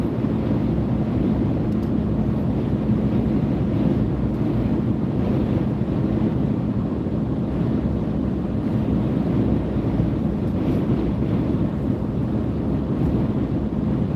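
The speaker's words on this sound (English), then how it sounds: "Man, this wind is crazy." Strong wind roars continuously against the microphone during a severe weather storm chase in northwest Kansas, a loud, dense, unbroken rush with no voices.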